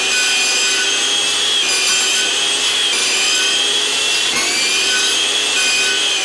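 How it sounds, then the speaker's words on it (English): A saw cuts steadily through 12mm plywood offcuts, giving a continuous rasping, close and loud, with brief pauses between strokes. "random offcuts like this 12mm ply. Let's cut it into chunks"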